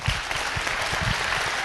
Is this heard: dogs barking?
no